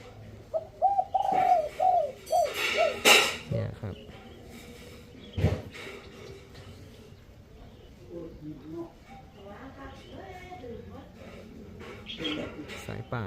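A caged spotted dove, a two-year-old wild-caught bird, gives a loud close burst of cooing near the start, followed by softer calls while someone talks through the rest.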